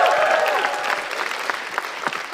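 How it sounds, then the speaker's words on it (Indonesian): Audience applause at a live Indonesian comedy show, a dense burst of clapping that starts loud and gradually thins out over a couple of seconds, with some voices audible underneath. "Langsung tepuk tangan saja untuk Akbar."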